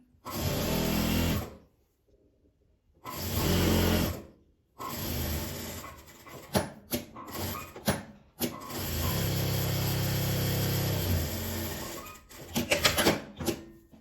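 Sewing machine stitching a folded fabric strap, with loud mechanical bursts of rapid stitching, a brief pause, another run, scattered clicks and handling, then a long steady stretch of stitching and short stop-start bursts at the end.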